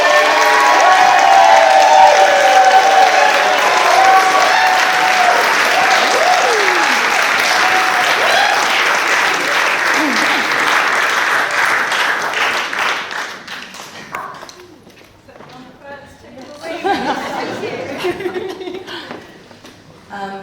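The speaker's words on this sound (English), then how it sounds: "a round of applause for them, please" Wedding guests break into loud, sustained applause with some cheering and laughter close by. The clapping fades after about thirteen seconds, leaving scattered claps and a brief swell of voices.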